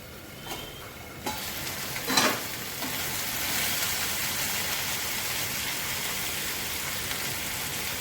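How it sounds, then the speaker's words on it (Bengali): Bori posto fries in a covered pan: a few clatters, then a steady, even sizzle that keeps on without a break. "অল্প ভাজা হবে, ঢেকে দিচ্ছি।"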